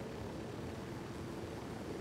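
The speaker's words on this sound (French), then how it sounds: "Il y a un hélico!" Steady, loud rotor-and-engine drone of a helicopter in the Ghost Recon video game, a continuous low rumble filling the whole moment with no voices over it.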